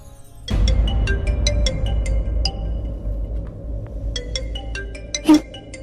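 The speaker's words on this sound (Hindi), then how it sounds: "अशोक क्यों फोन कर रहा है हमें अभी?" A phone ringtone plays a bright, repeating melodic tone pattern, cycling several times over a low hum.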